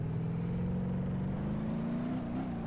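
Steady engine drone of a car heard from the in-car view in the driving game BeamNG.drive, a low hum whose pitch climbs gradually as it accelerates, continuous and without speech.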